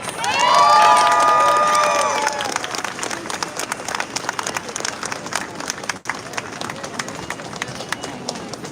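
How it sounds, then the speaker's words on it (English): A large outdoor crowd at a New York City animal rights march erupts in loud cheers, whoops and whistles, then settles into sustained, steady clapping and scattered shouts that carry on throughout. "So give a big welcome of applause"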